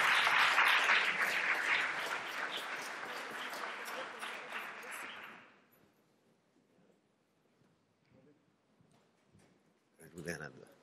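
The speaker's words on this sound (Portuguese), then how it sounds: "Uma salva de palmas, por gentileza." Audience at a conference in Brazil bursts into loud, dense applause that tapers off after about five seconds, followed by near silence and faint murmuring.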